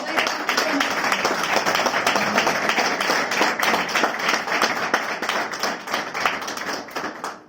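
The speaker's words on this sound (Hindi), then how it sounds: "आपकी जोरदार ताली।" Loud, dense audience applause with many hands clapping steadily throughout, close and continuous with no pause.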